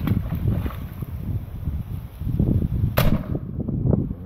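A BKS firecracker goes off in water with one sharp sudden bang, set against wind noise and low rumbling handling sounds outdoors before and after.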